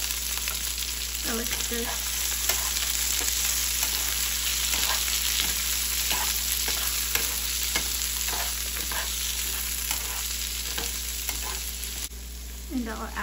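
Corn frying in a pan for calabacitas gives a steady close sizzle with intermittent stirring scrapes throughout, and a brief spoken remark cuts in over the cooking.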